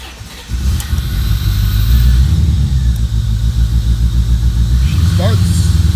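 A 1991 Corvette engine cranks and fires after a brief pause, then settles into a loud, rumbling idle that stays close and steady.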